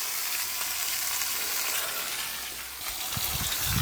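Steaks searing on a hot shovel give off a steady, close sizzle with hiss and crackle, holding constant for several seconds and then picking up a few sharper pops near the end.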